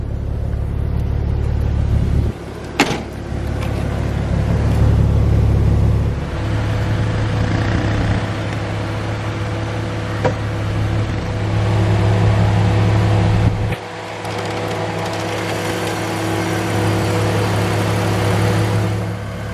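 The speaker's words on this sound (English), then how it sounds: "This 330 has a 3-liter straight 6, producing 228 brake horsepower and 221 foot-pounds of torque." A 2003 BMW 330Ci with a 3-liter straight-six idles with a steady, low, near hum, broken by a couple of brief clunks and a short dip in the engine note.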